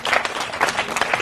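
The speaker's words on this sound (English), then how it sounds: "let's give them a round of applause" An audience at a St. Croix ancestor-honoring ceremony applauds exhibit builders and tradition bearers, a short burst of brisk, uneven clapping from a moderate crowd at middle distance.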